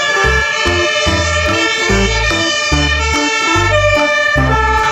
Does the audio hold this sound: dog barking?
no